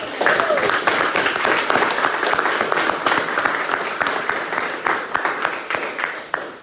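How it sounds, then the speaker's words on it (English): Crowd at a political gathering giving a round of applause, a dense wash of many hands clapping steadily and loudly throughout, close and continuous with a few voices mixed in. "So give yourselves a round of applause"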